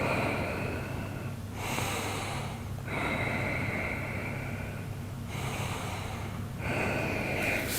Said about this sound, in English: Take 3 more breaths here.